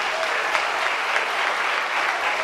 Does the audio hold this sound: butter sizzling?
no